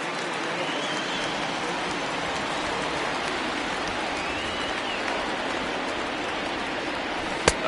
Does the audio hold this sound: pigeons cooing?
no